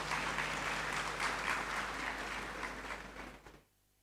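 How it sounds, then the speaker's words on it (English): An audience in a great hall during a graduation ceremony applauds a dance troupe, with dense sustained clapping that fades out over the last half second into quiet. "Another round of applause for them,"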